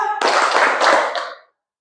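A group claps together in a counting clap game, one brief burst of many hands striking at once, loud and close, lasting just over a second before cutting off into silence.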